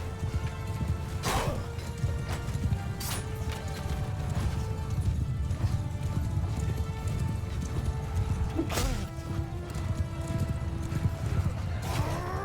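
Continuous rapid hoofbeats of galloping horses with occasional neighs and clashing impacts, a busy battle soundscape without speech, from the video game Mount & Blade II: Bannerlord.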